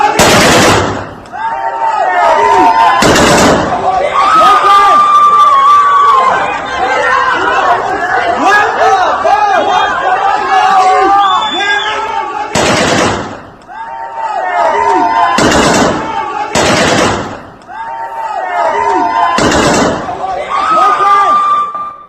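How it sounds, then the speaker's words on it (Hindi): Sharp gunshots crack out about six times, irregularly spaced, over a loud, dense crowd roar at street protests in Iran. "फायरिंग हो रही, खुलेआम लोग गोलियां चला रहे हैं"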